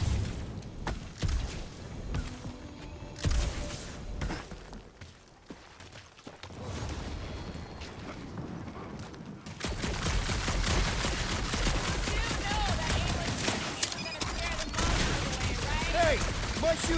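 Gunfire in the Guardians of the Galaxy video game, with sustained rapid bursts and booms that grow louder and denser toward the end, mixed with game effects and occasional voices.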